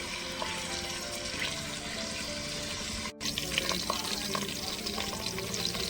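Green chillies and coriander leaves frying in hot oil in a preheated pan for chicken curry, a dense, continuous close sizzle with scattered crackles and a brief dropout partway through.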